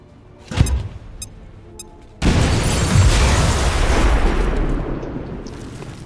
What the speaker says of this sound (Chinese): 然后车子爆炸